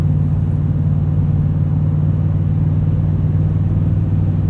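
Steady, loud low drone from a supercharged 2015 Toyota Tundra TRD Pro with a 5.7 V8 and factory TRD exhaust, cruising at an even engine speed with no breaks.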